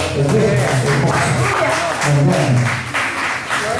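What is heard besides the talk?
congregation applauding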